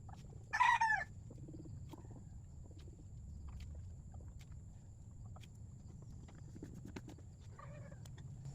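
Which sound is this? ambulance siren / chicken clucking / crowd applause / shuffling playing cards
chicken clucking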